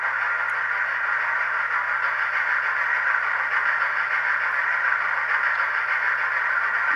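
Sound chip in a Hornby A4 Bittern model steam locomotive gives a steady, hissing, noisy engine sound heard close up, continuous and even for several seconds with no talking.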